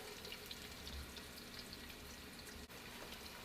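Onions and chopped garlic frying in oil for Jamaican curry oxtail, a continuous soft sizzle and crackle heard up close, steady and fairly faint, with no talking.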